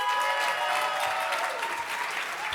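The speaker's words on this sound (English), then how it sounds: "Another burst of applause." Audience applause at a Pitchfest 2024 pitching event on stage, a dense continuous clatter of many hands clapping, fairly faint and even throughout, with no voices over it.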